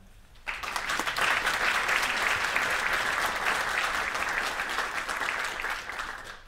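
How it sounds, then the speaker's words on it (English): Audience at the inauguration of a transmission electron microscope at Chalmers bursts into applause after a brief quiet moment, a dense, sustained clapping from many hands that holds steady for several seconds before easing off. "So let's give us all an applause for that."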